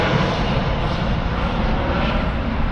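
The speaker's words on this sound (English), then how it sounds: "I don't think you can tell how close that plane is." A low-flying airplane with its landing gear down passes close overhead above a village, its engine a loud, steady roar that fills the whole stretch with no voices.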